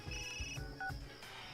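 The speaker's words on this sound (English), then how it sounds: "suddenly my ringtone echoes through the empty place" A short electronic phone ringtone in the video game Persona 4 Arena Ultimax plays a few bright beeping tones in quick succession, clear and close, with no talking.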